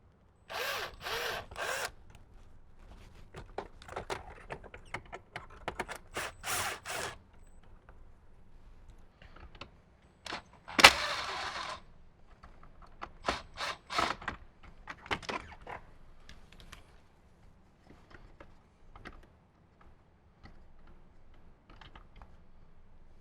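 Screws being removed from under the speedometer of a Jeep JL Wrangler with a power driver, heard as close bursts of whirring and ratcheting clicks separated by quiet gaps, with one louder burst midway and no speech.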